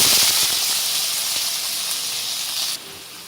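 Cinnamon, cloves and fennel crackle in hot oil as sliced onions go in for a chicken fry, a loud, steady broadband sizzle that eases slightly near the end.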